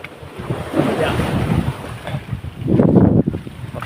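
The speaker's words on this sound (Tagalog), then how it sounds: "Malakas ang alon na." Strong ocean waves churn and slosh around a small boat at sea, near a rock formation, with gusty wind buffeting the microphone and a louder surge of water near the end.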